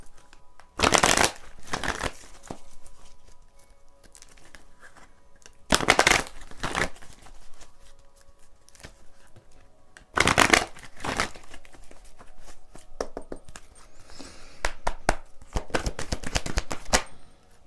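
Oracle cards are shuffled by hand in crisp riffling bursts that come again every few seconds, near and clear, with quieter card handling between them and no talk.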